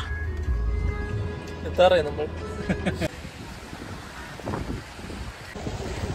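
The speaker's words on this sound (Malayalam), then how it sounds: "ഭയങ്കര കാറ്റ്." Gusty wind buffets the microphone at Kovalam beach, with surf roaring behind and a person speaking over it in the first half.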